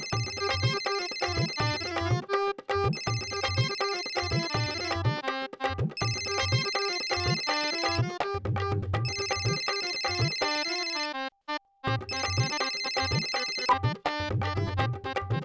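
An electronic telephone ringtone plays a repeating melodic tune on a loop, steady and moderately loud with no talk over it.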